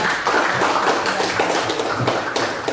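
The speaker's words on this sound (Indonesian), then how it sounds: "tepuk tangan untuk teman kita." A classroom of students claps for a classmate during a religious studies lesson, a fairly dense patter of hand claps at moderate loudness with faint voices mixed in.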